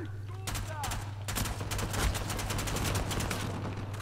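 Full-auto gunfire in the video game Uncharted 4, with a rapid burst of close, loud shots over a steady background hum and a brief voice at the start.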